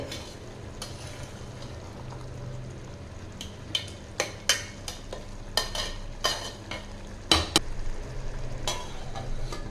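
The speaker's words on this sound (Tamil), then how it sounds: "இப்போ லைட்டாக ஒரு டைம் கலந்துக்கலாங்க" Tomato biryani rice is stirred in a pot with a low, steady cooking hiss and scattered scraping clinks of the spoon against the pot, growing busier toward the end, with no talk.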